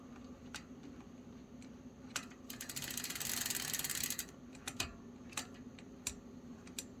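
Sturmey Archer AM three-speed hub gears clicking in low gear, close scattered ticks with a faster ratcheting run in the middle, then a few isolated clicks, without talk.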